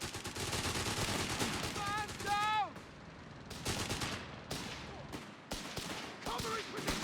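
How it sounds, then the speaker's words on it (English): Heavy rattling gunfire and machine-gun bursts from the video game Company of Heroes 3 fill the clip. Voices shout briefly partway through, and the shooting then breaks into sharper, separated bursts. "Under enemy fire!"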